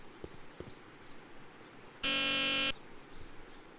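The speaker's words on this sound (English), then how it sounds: "Ooh, buzzer." A door buzzer at the Hill Valley Courthouse in the Back to the Future video game gives one loud, steady electronic buzz lasting under a second over quiet background ambience.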